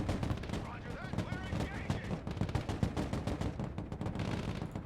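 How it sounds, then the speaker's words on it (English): Automatic grenade launchers fire in the war game Broken Arrow, rapid thumping bursts mixed with explosions and heavy battle noise, sustained and loud across the whole span. "Looks like our AGLs are engaging now these targets"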